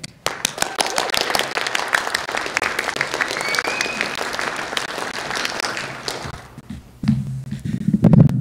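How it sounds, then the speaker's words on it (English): Audience applause for a guest speaker at a school presentation: dense, steady clapping from a full room for about six seconds, then fading out as a few thumps and a voice come up near the end. "please give him a huge round of applause"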